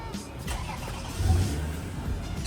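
A Toyota Harrier 3000 AWD fitted with a TRD body kit idles at a car meet, then its engine rises in a short rev burst partway through, heard close with faint talk around it.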